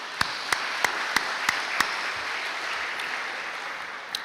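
At a high school sports awards ceremony, an audience gives a faint, steady wash of applause for school staff, with a few sharp, evenly spaced louder claps standing out near the start.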